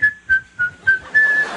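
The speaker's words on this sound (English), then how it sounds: "you guys whistle when you work" A person whistles a short tune of five clear notes, the last one held longer, heard close and alone against a quiet background.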